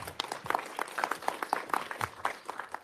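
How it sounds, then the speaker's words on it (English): A roomful of people at an executive committee meeting clap in a lively round of applause, dense and fairly close, with no voices over it. "How about a huge round of applause for Erin?"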